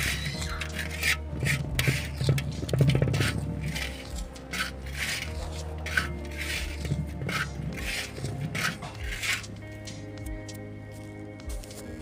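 Plant fertilizer ingredients are mixed together in a container, making close, continuous rubbing, squishing and scraping sounds with irregular gritty strokes, no talking.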